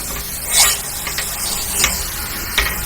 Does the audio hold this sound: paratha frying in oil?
yes